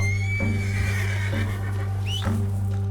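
A horse whinnies in Red Dead Redemption 2, a rising, tonal neigh heard twice over a steady droning game background, fairly close and clear with no talk.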